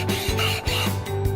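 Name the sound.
sanding glass, from video game A Sky Full of Stars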